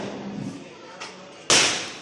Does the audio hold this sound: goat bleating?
no